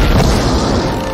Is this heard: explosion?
yes